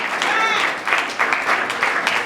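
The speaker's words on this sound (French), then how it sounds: "Sur vos applaudissements" Crowd applause at an award ceremony for comedians, a dense burst of clapping that swells and dips in waves, fairly close and full, with some voices mixed in.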